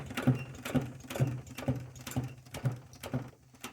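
An old heavy-duty upholstery sewing machine runs at a steady pace, its needle thumping rhythmically roughly twice per second with mechanical clatter, fairly quiet.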